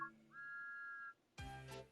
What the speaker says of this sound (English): It even has a whistle.